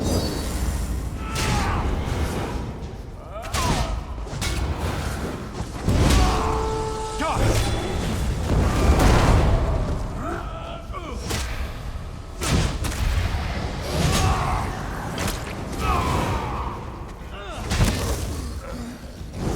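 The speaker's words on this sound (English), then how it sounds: "Explosion of fire and flame." Fiery explosions and flame bursts in the game Elder Scrolls Online: Greymoor: heavy booming blasts, crackling and whooshing effects layered over game music, loud and continuous with repeated impacts.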